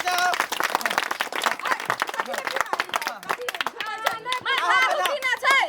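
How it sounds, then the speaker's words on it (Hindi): Wedding guests clap during a garland exchange, brisk scattered hand claps mixed with lively chatter and overlapping voices. "ताली बजाओ, ताली बजाओ, बजाओ।"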